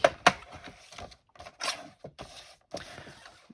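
Scissors cut out pieces of card for a handmade birthday card, a series of close, quiet snips and rustles at an uneven pace with short pauses between cuts.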